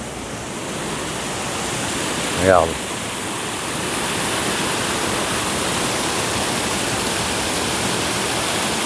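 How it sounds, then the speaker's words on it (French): Steady broadband rush of waterfall cascades at the foot of a spring, continuous and fairly loud, with a brief spoken word over it partway in. "je suis au pied de la source. Des cascades, plus exactement."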